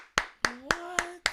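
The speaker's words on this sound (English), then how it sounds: "I'm going to clap for the baby fathers that can work together." Five sharp hand claps land at an even, brisk pace, loud and close, with a faint tonal sound drifting underneath between the middle claps.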